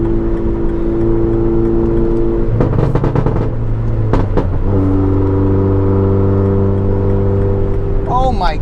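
A modified MINI front-wheel drive car, lifted at the rear, with its engine droning and rising in pitch as it accelerates, loud and close from inside, with short bursts of talk over it.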